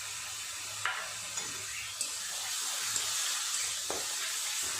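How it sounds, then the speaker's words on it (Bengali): Onion with ginger-garlic paste frying and being stirred in a pan, a constant low sizzle broken by several light spoon scrapes and taps, no talk. "আদা রসুন পেঁয়াজ আর একটু এইভাবে নেড়ে নেব।"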